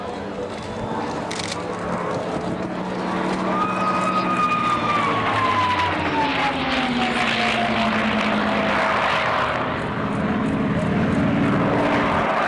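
Mustang and other Second World War fighter aircraft fly in close formation at an air show, their piston engines droning loud and steady with a slowly falling pitch as they pass, over a continuous outdoor roar.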